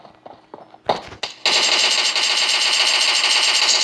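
A DP-28 machine gun fires in PUBG, a long sustained burst of rapid, loud automatic fire after a couple of short bursts and some quieter footsteps at the start.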